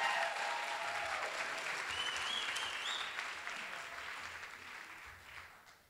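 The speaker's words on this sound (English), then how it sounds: "let's give a round of applause to everybody who worked on this" Audience at a fundraising campaign gathering applauds with steady, dense clapping that gradually fades toward the end.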